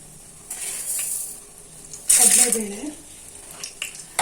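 Cumin seeds and chana dal tempering in hot oil for uppittu, a soft hiss at first, then a sudden loud sizzling burst that fades back to a gentle crackle.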